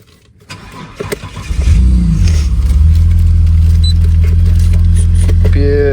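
VS car engine cranking briefly after the key is turned, then catching and settling into a loud, steady idle close by, with faint voices around.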